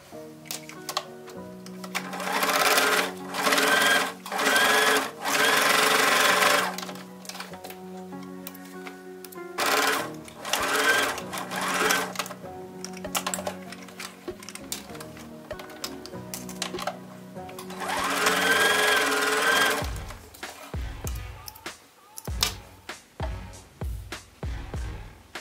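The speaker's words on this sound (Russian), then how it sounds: "Сшиваем, оставляя во внутренней части посередине отверстие." A sewing machine stitches fabric pieces for a small bottle bag, delivering several bursts of fast rhythmic mechanical chatter with pauses and handling clicks between runs, close and clear, with no talking.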